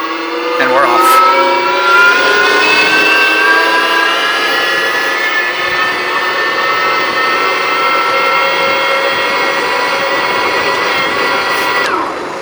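A hand-built custom cruiser e-bike motor whines steadily under acceleration, a loud close electric drone that rises slightly in pitch and holds for several seconds before cutting off.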